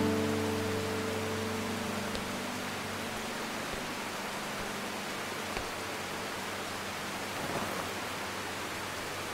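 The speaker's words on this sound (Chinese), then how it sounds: "下雨天还跑出去？" Rain falls as a steady, dense hiss that fills the whole clip, fairly even and moderately loud, with a faint low hum fading at the start and no talk.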